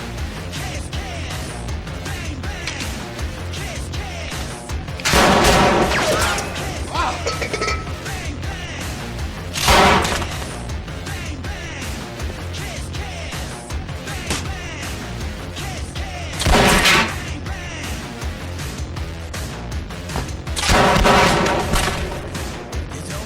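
Gunfire at an outdoor shooting range at a castle, four or five separate loud blasts spaced several seconds apart over a steady background of music and noise.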